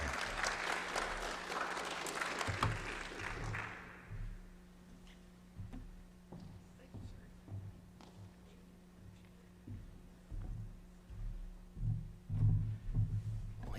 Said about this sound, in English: He already got the applause, but I want to give him a round of applause again.